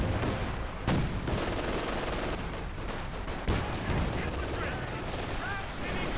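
Gunfire from the real-time strategy game Company of Heroes 2 in a 2v2 match: dense bursts of rifle and machine-gun shots with sharp cracks, layered under a busy battle soundscape.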